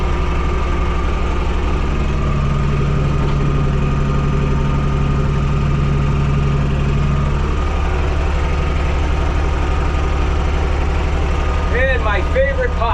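A tractor engine idles in a steady, close, low rumble with a constant mechanical hum throughout, and a voice briefly speaks near the end.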